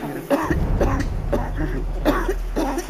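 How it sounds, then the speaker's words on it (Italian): A woman coughs violently in a hospital emergency setting, with repeated harsh, hacking bursts in an uneven rhythm, close and loud, over a steady low hum. "Ha un attacco di tosse spaventoso."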